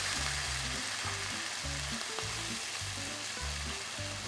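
Meat seasoned with mustard and garlic powder searing in a very hot pan, a loud, dense, continuous sizzle close by with a rhythmic sputtering pulse, alone without talk.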